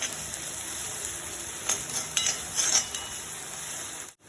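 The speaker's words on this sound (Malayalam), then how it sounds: "ഞാൻ ഉള്ളി ഒന്ന് മൂത്ത് വരണം." Onions and curry leaves frying in a pan, a constant close hiss with a cluster of sharper stirring scrapes and crackles in the middle, ending in a sudden cut, no talking.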